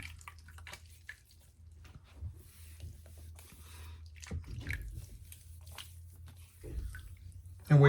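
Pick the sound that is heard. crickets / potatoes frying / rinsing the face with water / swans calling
rinsing the face with water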